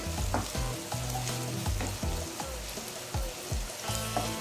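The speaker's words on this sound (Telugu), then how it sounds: "ఇవన్నీ బ్రౌన్ కలర్ వచ్చేలాగా వేపుకోవాలి." Chopped green chillies and onions frying in oil in a pan for a fish curry, a loud steady sizzle with repeated stirring scrapes throughout, close up, no voices.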